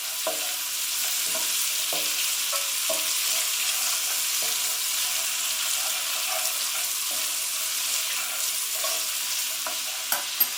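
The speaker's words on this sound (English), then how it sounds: "Give it a really good stir." Chard and spaghetti being stirred in a pan over low heat, a steady soft sizzle with a gentle wet hiss and intermittent scrapes and taps of the utensil, close by.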